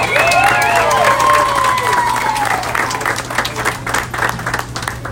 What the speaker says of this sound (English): Let's give a big round of applause to our students who helped us in the pledge.